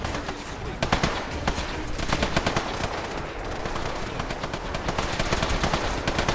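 Rifle gunfire in a post-apocalyptic survival video game: rapid, continuous bursts of loud cracking shots over a dense, noisy background, with a voice faintly mixed in.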